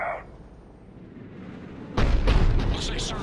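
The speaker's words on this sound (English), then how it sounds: "Looks like Cerberus got that cannon operational, Commander" A Cerberus cannon fires in Mass Effect 3 after a quiet stretch: a loud, booming artillery blast with a crackling, rumbling tail, heavy and near.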